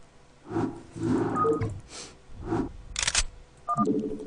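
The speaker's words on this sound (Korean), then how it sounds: "방금 찰칵 소리 났어" Short sharp clicks and game interface blips from a StarCraft custom defense map, scattered among muffled tonal effects and brief bursts, with a crisp click standing out near the middle.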